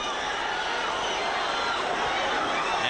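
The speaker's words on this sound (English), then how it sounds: "The pro-Griffin contingent in the crowd whoops it up" A boxing crowd at the Roy Jones Jr vs Montell Griffin fight whoops and roars for Griffin, a dense, steady wash of noise that fills the whole stretch without a break.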